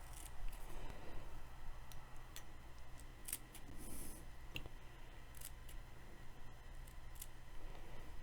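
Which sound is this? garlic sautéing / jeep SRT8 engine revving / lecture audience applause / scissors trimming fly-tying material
scissors trimming fly-tying material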